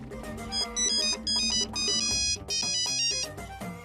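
A mobile phone ringtone plays a bright, electronic melody of quick repeated notes in short phrases. It is loud and clear, with no talk over it.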